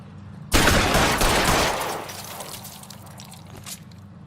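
Gunfire in the video game L.A. Noire: a sudden loud burst of rapid shots that stays dense for about a second, then fades into scattered, fainter crackling reports.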